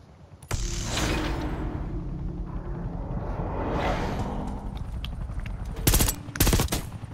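Bursts of rifle fire in Call of Duty, a dense sustained rattle of rapid shots for several seconds, then two sharp, louder clusters of shots near the end.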